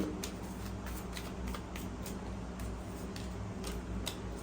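Tarot cards shuffled by hand, a quick run of close, soft riffling clicks and flutters in a steady, regular rhythm over a low background hum, with no voices.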